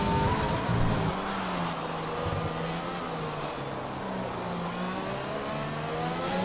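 A race car engine drones in a sim racing game on a lap of the Netherlands track, holding a steady mid-level tone with gear-change pitch shifts, loud and continuous with no talk.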